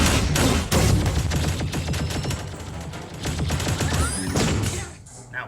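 A giant gun in an animated superhero show fires rapid, dense bursts of gunfire with heavy thumps, continuing for several seconds before cutting off.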